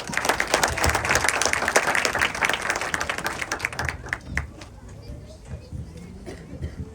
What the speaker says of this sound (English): Have a clap, please.